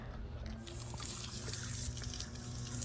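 A garden hose sprays water steadily on a ride outing with a wild mustang, a constant rushing hiss that swells slightly and holds close and loud.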